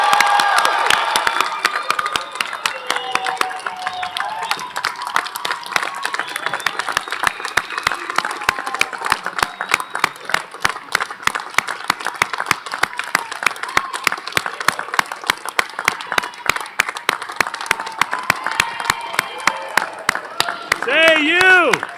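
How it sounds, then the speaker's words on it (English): A university commencement audience gives graduates a sustained round of applause, dense rhythmic clapping with scattered cheers and shouts filling the hall, swelling near the end as voices rise. "Let's give them another round of applause."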